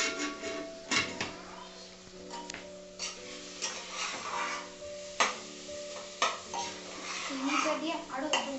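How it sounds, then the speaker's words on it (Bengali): Mutton kosha, a Bengali spiced mutton dish with a little sugar added, is being stirred and fried in a home-kitchen pan, with repeated close metallic scrapes and clinks of a spoon against the pan at an irregular rhythm. "চিনিটা দিয়ে আরো 2 মিনিট একটু কষিয়ে নিচ্ছি।"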